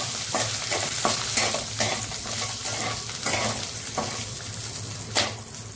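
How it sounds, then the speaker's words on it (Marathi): Garlic and ginger sauté in a spoonful of oil, a steady close sizzle broken by regular scraping strokes of a spoon stirring the pan, with one louder clatter near the end. "आता 1 चमचा तेल घालूया. त्यानंतर यामध्ये 5 ते 6 लसूण, अर्धा इंच आलं, 2 मिनिटं परतून घेऊया"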